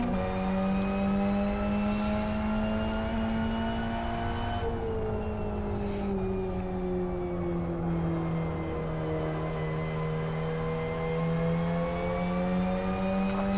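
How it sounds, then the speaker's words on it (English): Turbocharged race car engine in the Live For Speed racing simulator, whining gears and turbo over a loud, sustained engine drone that shifts pitch through gear changes, heard alone with no talk. "It's got a gear whine and a turbo, so it sounds a lot better."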